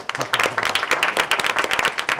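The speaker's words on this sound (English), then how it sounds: "give a big round of applause to everyone and our speaker again" A crowd applauding, dense and steady clapping from many hands, close and fairly loud throughout.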